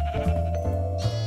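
A goat bleats in Minecraft, a short wavering in-game cry heard clearly on its own over a steady tonal background, with no talking.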